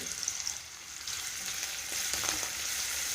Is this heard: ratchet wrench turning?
no